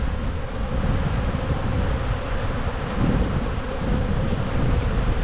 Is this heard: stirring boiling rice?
no